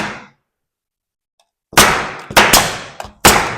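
A staple gun fires staples into a laminate countertop under construction: four sharp, loud metallic bangs after a brief quiet stretch, spaced unevenly, each with a short ringing decay, up close with no talking.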